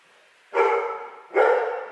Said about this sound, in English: My dogs are about to start barking.